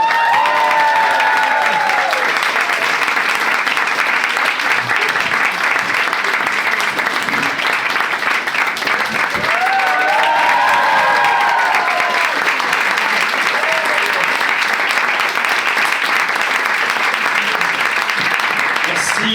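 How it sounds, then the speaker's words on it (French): Comedy club audience applauding and cheering a stand-up comedian taking the stage, a loud sustained wall of clapping that holds steady for the whole stretch, with whoops and voices rising through it. "faire un tonnerre d'applaudissements pour Jay du Temple"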